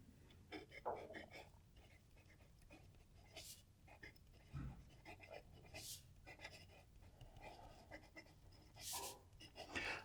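A broad-nib metal fountain pen with a slippery metal section scratches across paper in faint, intermittent strokes, low and close, with soft breathing and quiet rustling around it.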